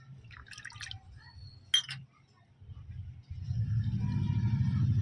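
A pest-repellent solution for hibiscus plants is mixed into water: a few glassy clinks and drips, a brief pause, then a low, steady swirling rumble of the liquid being stirred.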